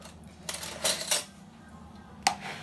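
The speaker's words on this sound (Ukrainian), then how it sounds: "Зараз перемішуємо" A few short clinks of a utensil against a bowl as a pineapple salad is mixed, three or four light taps spread over a couple of seconds, fairly quiet.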